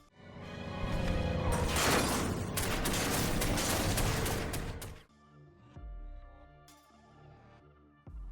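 Dense bursts of rapid gunfire and explosions from The Godfather video game on Xbox 360, loud and sustained for several seconds, then thinning to scattered shots and booms.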